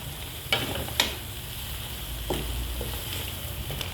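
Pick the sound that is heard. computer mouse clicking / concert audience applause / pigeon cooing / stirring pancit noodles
stirring pancit noodles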